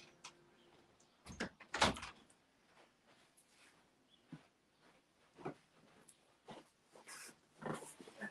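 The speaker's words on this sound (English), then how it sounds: "I'm just going to go and shut my door" An indoor room door pushed shut at home, giving a single sharp thud among several scattered knocks and shuffling bumps, with faint lawn-mower noise from outside in the background.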